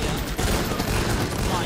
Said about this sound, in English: Why are you guys shooting while we block this area?